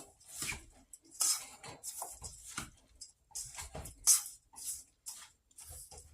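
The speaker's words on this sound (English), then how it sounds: "So carefully mix this in so I don't get it all over my stove" A spoon scrapes and taps against a pan while squash casserole is mixed, making close, irregular clinks and scrapes in short bursts with quiet pauses between them.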